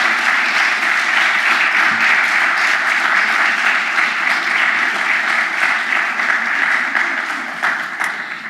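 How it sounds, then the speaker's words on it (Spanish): An audience applauds steadily and loudly after a lecture on great diplomats, a dense, sustained wash of clapping that begins to fade in the last second. "Un aplauso, por favor"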